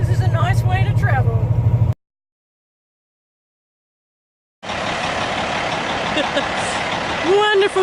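Heavy diesel drone of a massive Peterbilt truck heard from inside the cab, loud and steady, cutting to silence midway and then resuming with road rumble and people talking over it.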